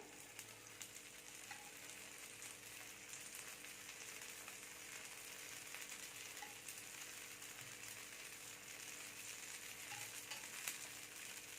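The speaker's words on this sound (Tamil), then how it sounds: "நல்லெண்ணெய் ஊற்றுறேன் நான்" Sesame oil sizzles and fries on a ragi and drumstick-leaf adai in a pan, a steady soft crackle lasting throughout with faint low stirring or scraping sounds.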